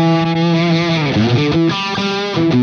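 A thick, saturated distorted electric guitar through a Friedman BE-100 amp plugin's saturation mod plays a short, chewy riff with sliding notes, loud and compressed, with no voices.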